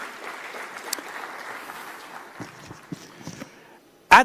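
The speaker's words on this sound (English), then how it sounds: "Could we have a huge round of applause for our wonderful jury?" Audience applause for the jury at a business awards ceremony, a steady dense patter of clapping that thins out and fades over about four seconds, followed by a sharp loud bump at the very end.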